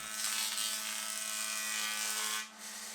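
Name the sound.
woodworking machine flattening timber boards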